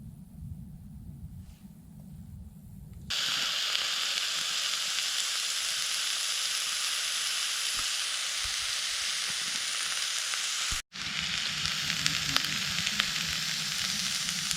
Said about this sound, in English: So I'll add a little bit of oil and soften it up.